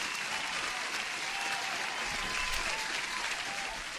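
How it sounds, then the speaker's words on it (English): Steady applause from a crowd, a continuous even patter of many hands held at a moderate level for the whole stretch, with no talking over it. "You deserve an applause."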